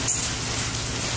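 Heavy rain on a late evening street, a steady dense hiss of drops striking surfaces, constant and close with no voices.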